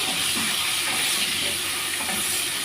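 Potatoes with salt and turmeric being stirred in a hot pan make a dense, even frying hiss and sizzle, close and steady for a few seconds, with faint scraping and no talk.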